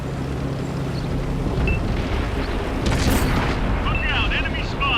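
A tank is destroyed in a World of Tanks battle with a loud, rumbling explosion boom. The boom sits over dense battle noise and game voice callouts.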